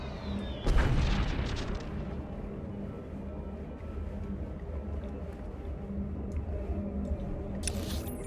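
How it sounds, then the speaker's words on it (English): Republic artillery fire in the Star Wars: The Old Republic game on Taris: one heavy, close boom lands, then a long low rumble and battle ambience linger with a faint crack near the end. "we'll deal with the Republic's artillery"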